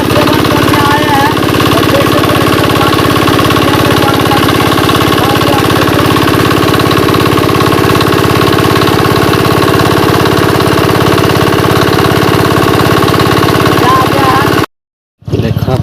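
A motorbike engine runs loud and close at a steady idle, a continuous rough drone with knocking texture that cuts out abruptly near the end.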